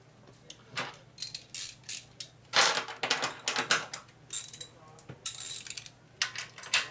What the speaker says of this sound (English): Now just go ahead and torque it down.